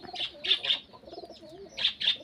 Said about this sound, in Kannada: ನಮ್ಮ ಮನೇಲಿ ಪಾರಿವಾಳ ಇದೆ